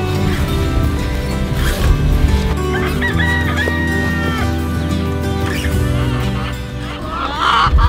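Chickens cluck steadily at close range, with a rooster crowing among them and a dense, continuous layer of fowl chatter throughout.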